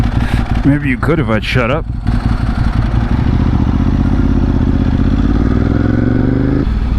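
Idling Ducati 1098S sport bike with a rattling dry clutch, a steady low engine chug and clatter running close by after a short spoken remark.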